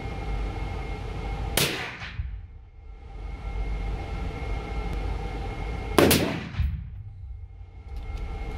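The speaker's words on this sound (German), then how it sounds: "Und dann schieße ich mit meinem TAC-Geschoss." Two sharp rifle shots from a .308 Win hunting rifle loaded with Brenneke TAG cartridges, each a loud crack about four seconds apart, followed by a decaying rumble over a steady outdoor background.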